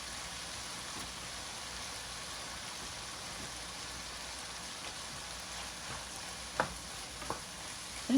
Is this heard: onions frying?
yes